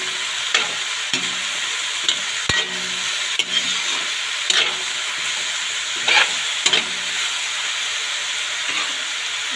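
Mung bean sprouts being stirred in a hot frying pan, with a steady close sizzle and repeated scraping strokes of the spatula throughout, no talking.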